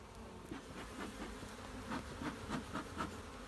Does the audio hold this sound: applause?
no